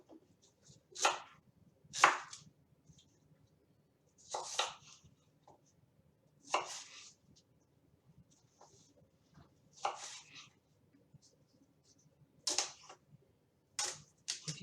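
Rhubarb being cut up for pie: a series of sharp, separate knife chops on a board, spaced irregularly about a second or more apart, fairly close against a quiet background.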